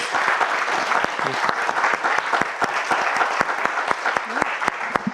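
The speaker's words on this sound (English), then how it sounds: "I invite you all to give a big round of applause." Steady applause from a crowd after a panel discussion, many hands clapping continuously with a few sharper claps standing out, sustained throughout.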